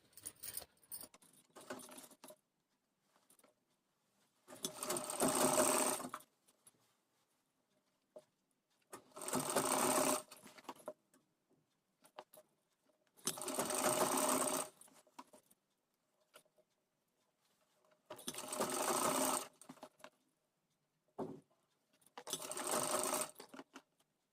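A sewing machine stitching the neckline of an illusion blouse runs in six short bursts of rapid stitching, separated by near silence and light handling sounds.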